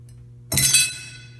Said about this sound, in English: So I'm going to take this piece of metal and I'm going to use this to cut it to the size I need.